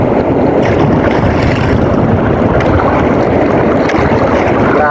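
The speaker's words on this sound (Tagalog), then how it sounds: "Napakalakas talaga ng amihan. Yung alon, ang lalaki oh." Strong amihan monsoon wind roaring over a microphone on a boat at sea off Kalarayan among big waves, a loud, constant, rumbling blast with the churn of water beneath it and no let-up.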